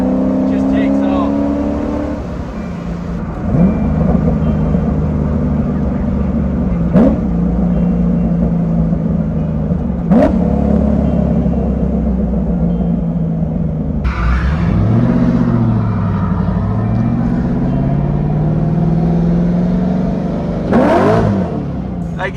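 An LS3 V8-swapped Nissan 350Z pulls hard in fifth gear, its deep engine drone rising steadily and loud throughout, with a brief shift-like dip midway and people talking over the engine noise.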